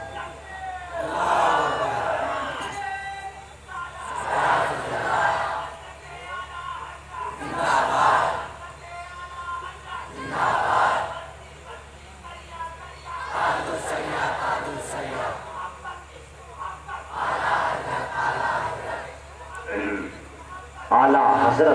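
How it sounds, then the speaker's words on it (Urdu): A large audience chants religious slogans in unison at a Muslim religious gathering, loud repeated call-and-response bursts roughly every three seconds, with voices swelling and fading between them. "ان بچوں نے بھی، آپ نے نعرے لگائے"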